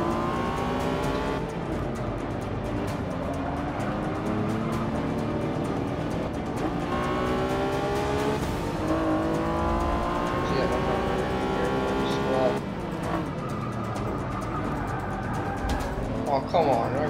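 Race cars from the Forza 6 video game roar continuously, engines rising and falling through gear changes with occasional tire squeal, loud and sustained under a player's speech.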